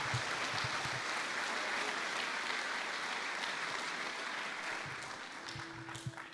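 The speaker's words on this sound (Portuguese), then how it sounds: "Dê um aplauso ao Senhor." Church congregation applauding during a worship service, a steady broad wash of clapping that holds throughout at a fairly even level, with a brief tonal hum near the end.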